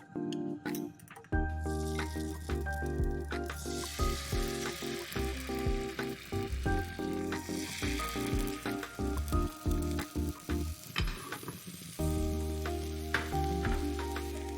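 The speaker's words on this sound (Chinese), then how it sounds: "小火煎，" Beaten egg mixture with cooking wine and water frying on low heat in an oiled pan for tamagoyaki, giving a soft continuous sizzle with small pops and crackles, close and fairly quiet.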